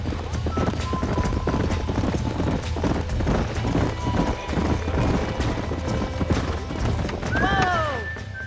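Horses in the Red Dead Redemption video game clatter along in steady hoofbeats, and a loud whinny rises near the end, with music and ambient game sound underneath.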